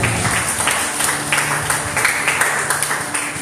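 A church congregation claps for the Lord during a sermon, a loose, uneven patter of hands over a few seconds with a low background hum.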